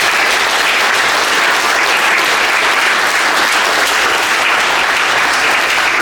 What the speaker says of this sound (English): So please give Jan a round of applause.